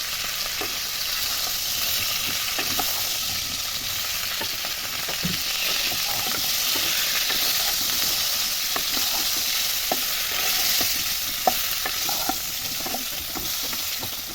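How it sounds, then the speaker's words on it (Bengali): Cauliflower florets fry in hot oil seasoned with a little turmeric, giving a steady bright sizzle with scattered pops and crackles throughout, close and fairly loud, with no talking. "তেল কিন্তু গরম হয়ে গেছে। আমি তেলের মধ্যে দিয়ে দিচ্ছি সামান্য হলুদ। এবার আমি দেব ফুলকপিগুলো"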